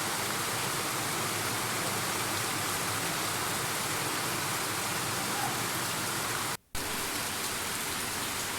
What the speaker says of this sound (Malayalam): അങ്ങനെ കുറേ സമയം മഴയൊക്കെ അങ്ങനെ നോക്കി നിന്നിട്ടോ.